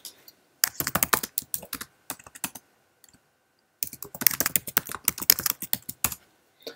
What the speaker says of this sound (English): let's just physically type some tags in